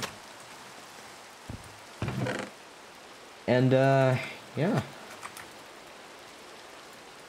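Steady rain falls in the video game Minecraft as a constant hiss, with someone talking briefly over it in a few short bursts.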